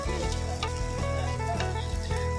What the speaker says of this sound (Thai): ไม่คนแรงนะคะเพราะว่าปลาสุกแล้ว